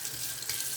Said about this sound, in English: I'm going to have to add a ton of water to this to get this where I want it.